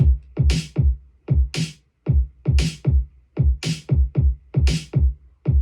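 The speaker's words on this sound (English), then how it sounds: "here's the beat that comes in" A punchy electronic drum beat loops steadily, with deep kicks, snappy hits and bursts of noisy hi-hat in a repeating groove.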